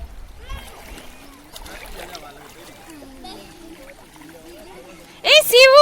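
A child splashes in river water with a lively spatter near the end, after a stretch of chatter and excited voices from the family bathing in the river.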